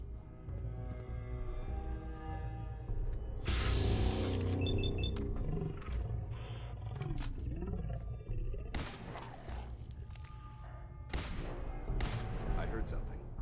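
Gunfire in the video game Fallout 4 during a fight with feral enemies: several sharp broadband shots crack out in the second half over a dense, loud bed of monster roars and game noise, with voices calling out.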